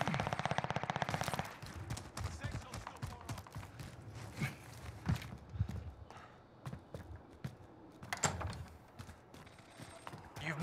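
Gunfire in the battle royale game Rebirth Island: a loud, rapid automatic burst opens, then gives way to scattered single shots and short volleys at varying distances amid quieter footsteps and movement.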